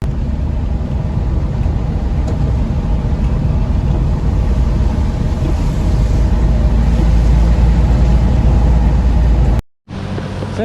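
Steady loud engine rumble and road noise from inside a multicab vehicle on a ride in Siargao, continuous and droning before cutting off abruptly near the end.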